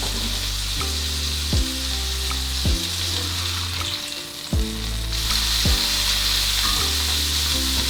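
A burger patty sizzling in a hot pan beside brioche buns toasting for a homemade McDonald's-style hamburger, loud continuous frying with a regular series of sharp clicks and shifts, close up and without talk.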